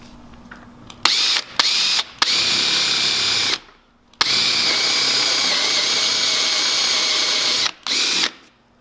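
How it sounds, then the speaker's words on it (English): A power drill bores into wood against a template in loud, close bursts. It gives several short whirs, then two long sustained runs separated by pauses. "So drill until you're down to your depth."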